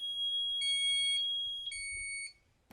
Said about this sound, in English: That beeping is for the depth meter